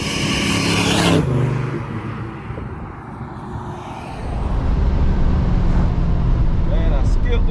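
Supercharged Oldsmobile Cutlass on new tires pulling away hard, a loud close engine roar that dips briefly around a gear change, then swells again and holds steady, with no talk.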